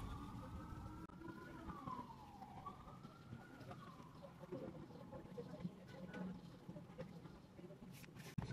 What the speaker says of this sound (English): Been hearing sirens for the past 5 minutes